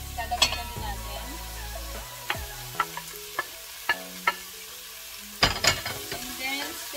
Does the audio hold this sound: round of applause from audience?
no